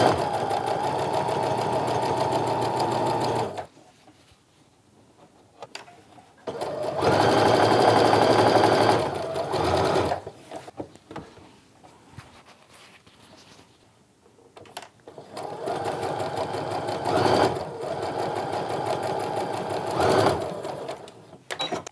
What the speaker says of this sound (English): So I'm going to go ahead and sew these to the ends of the bits that I've already done.